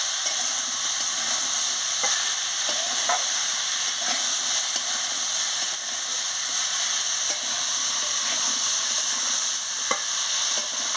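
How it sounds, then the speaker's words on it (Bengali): Cucumber and potato with spices being stir-fried in a pan, with a constant loud sizzle and occasional soft spatula scrapes spread across the stretch, close up and without voices. "এবার আমি শশা কাটা থেকে এর সঙ্গে দিয়ে দিচ্ছি, আলুর সঙ্গে মশলার সঙ্গে দিয়ে ভালো করে কষিয়ে নিচ্ছি।"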